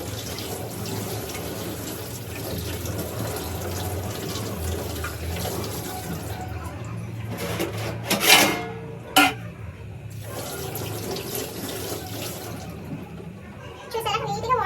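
Water runs and splashes steadily as hair is washed under a tap, with a few louder sloshing bursts near the end, close by, while a person talks over it.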